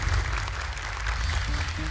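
An audience at an Indonesian Quran memorization competition claps steadily and fairly loudly for a young reciter. The applause is dense and sustained, and a voice can be heard under it.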